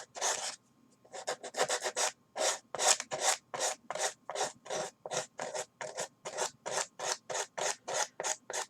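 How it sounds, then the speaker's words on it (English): Wooden pumpkin craft piece sanded by hand in quick, steady back-and-forth rasping strokes, about twenty close, loud rubs in a regular rhythm after a brief pause, with no talking. "we're going to sand it off really quick"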